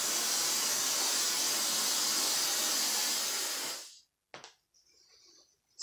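Hairspray aerosol sprayed onto hair, a continuous close hiss lasting about four seconds before stopping, followed by faint rustling.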